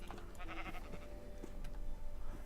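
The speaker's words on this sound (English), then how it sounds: "Let's go and kill this sheep here, and then that'll be enough." A sheep in the Minecraft video game bleats faintly a few times over a busy bed of game sound and low rumble.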